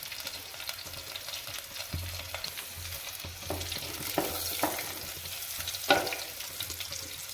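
Dried red chilies fry in hot oil in a pan, crackling and sizzling steadily throughout, with a low pulsing hum underneath and a few louder scraping stirs near the end.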